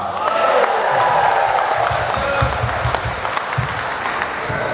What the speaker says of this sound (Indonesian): Ini tepuknya bagus Pak Dewaga